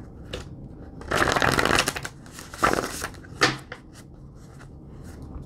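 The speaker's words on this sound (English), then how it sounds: "So we're going to shuffle." Tarot cards being shuffled in several quick riffling bursts, close and crisp, separated by brief pauses and softer handling sounds.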